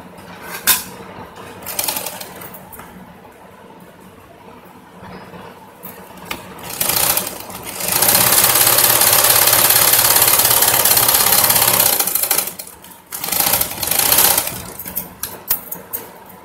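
A sewing machine stitches the waist belt of an umbrella skirt in several close, loud runs of rapid mechanical whirring, the longest lasting about four seconds, separated by quieter pauses.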